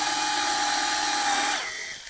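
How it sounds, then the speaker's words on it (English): A power drill pre-drilling holes in plywood gives a steady high-pitched whine for about a second and a half, then winds down and stops; close and loud, with no voices. "I'm gonna pre-drill a couple of holes"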